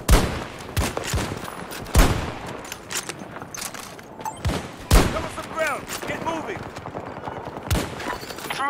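Gunfire in the video game Battlefield 2042: repeated sharp shots and bursts of automatic fire, some near and loud, some farther off, with a voice shouting over the battle.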